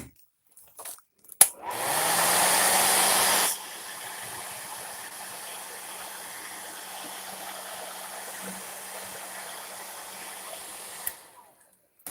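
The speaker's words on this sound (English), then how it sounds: "I'm going to come back in with the hair dryer." A hair dryer blows steadily, loud at first on a high setting, then switching to a lower, softer whir that runs for several seconds before cutting off.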